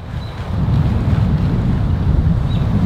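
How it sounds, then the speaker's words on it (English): Strong wind on an open golf course buffets the microphone as a continuous low roar that swells after the first half-second and stays loud throughout. "It is windy out here"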